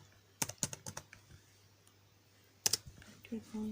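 Keys clicking on a computer keyboard while a web page is being edited, in two short bursts of typing separated by a quiet gap, close and fairly crisp with a low steady hum underneath.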